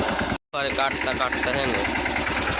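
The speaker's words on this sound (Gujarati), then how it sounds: "મિની ટ્રેક્ટરથી તો કોચી કાઢવા માંડ્યા હેવી" A mini tractor engine runs steadily during a groundnut harvest, a close mid-pitched drone with a brief cutout, while people talk over it.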